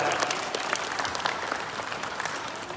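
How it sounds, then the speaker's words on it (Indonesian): Parents in the audience at an SD Islam Al-Azhar Cairo Banda Aceh school performance show applaud the pupils with full, lively clapping that stays steady and close. "Tepuk tangan yang meriah ananda kita"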